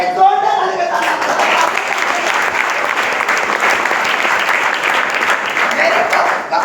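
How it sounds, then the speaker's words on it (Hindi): Enthusiastic audience applause at a business seminar, a dense sustained roar of clapping that starts after a brief spoken moment and continues steadily, loud and close. "आपके जोरदार ताली के साथ"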